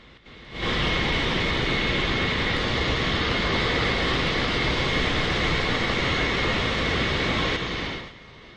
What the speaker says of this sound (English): Booster is in the air.